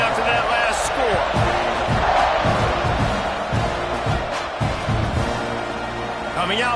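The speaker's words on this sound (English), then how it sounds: "this crowd is buzzing after that last score." A stadium crowd buzzing after a score in the NCAA football video game, a dense roar of many voices under a commentator's talk, with dull thuds and a brief rise in cheering.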